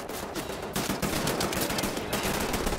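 Submachine gun fire in the video game Wolfenstein: The New Order: rapid, dense bursts of automatic gunfire that run almost without a break, moderately loud and somewhat distant, with no talk.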